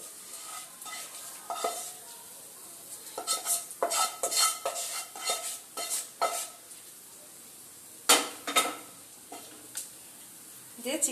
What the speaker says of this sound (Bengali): চিকেনটা আমি খিচুড়ির সঙ্গে খুব সুন্দরভাবে নাড়িয়ে দেব